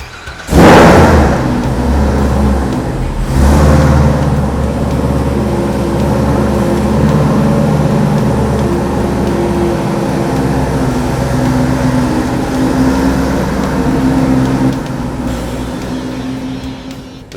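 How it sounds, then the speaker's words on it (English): A C7 Corvette Z06 with a Stage 4 package, cam and ported heads runs on a chassis dyno, a loud, deep, steady engine drone with two sharp revving bursts near the start and another toward the end. "getting ready to go to the chassis dyno."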